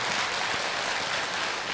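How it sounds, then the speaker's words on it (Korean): A church congregation applauds during a Sunday sermon, a steady, dense wash of clapping filling the space without pause for about two seconds. "막 박수가 나오는 것이"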